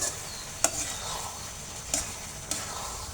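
Raw mango mixture with panch phoron spice powder stirred in a pan, a continuous soft sizzle broken by three sharp scrapes of the spoon against the pan, close by and without voices.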